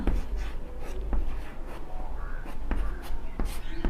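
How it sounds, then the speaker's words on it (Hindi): A pen scratches steadily across paper close by, a continuous rasping scrawl broken by short lifts and sharper taps as strokes begin and end. "लिख देंगे"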